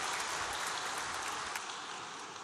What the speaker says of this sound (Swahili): ningeliomba wajumbe pia tumpigie makofi mengi Mheshimiwa Mavunde kwa kuwa nasi.